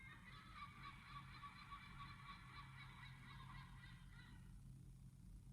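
A flock of birds calling outdoors, a dense chorus of honking, goose-like calls that runs continuously for several seconds at moderate distance, then stops abruptly.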